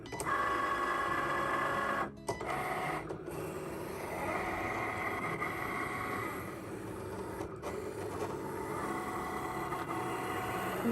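A craft cutting machine scores and cuts a pumpkin shape from paper, its motor humming and whirring continuously with brief pauses and carriage shifts, close and steady.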